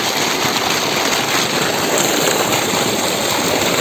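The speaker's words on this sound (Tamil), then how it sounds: "தெங்கு தொட்டியில் தண்ணி எப்படி வந்து விழுதுன்னு பாருங்க" At a coconut and banana grove in Coimbatore, water pours into a tank with a dense, continuous rushing splash that stays steady and close throughout.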